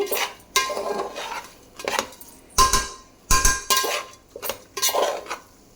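Metal spoon scraping and clanking against a pan as masala rice is stirred and fried on medium flame for chicken pulao, a steady run of close, sharp scrapes and knocks with no one talking.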